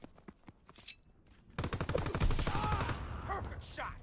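Rapid gunfire in the shooter game Call of Duty: Black Ops 4, sparse shots and footsteps first, then a dense burst of automatic fire with a short voice cutting in over it.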